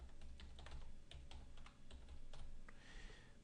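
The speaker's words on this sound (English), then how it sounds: "You type it in like that." Someone types a search keyword on a computer keyboard, a quick run of soft close clicks and taps with a brief pause midway and steady low room hum beneath.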